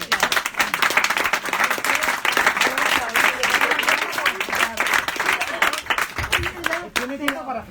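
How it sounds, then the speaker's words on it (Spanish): Audience at a Madrid book presentation claps enthusiastically, a dense sustained round of applause that fades near the end as voices take over. "yo te estaba aplaudiendo a ti"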